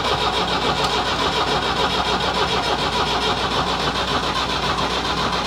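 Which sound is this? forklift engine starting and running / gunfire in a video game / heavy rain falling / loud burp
forklift engine starting and running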